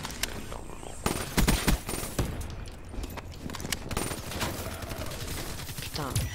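Rapid gunfire from a shooter video game comes in dense overlapping bursts and single loud cracks, with a voice talking at times.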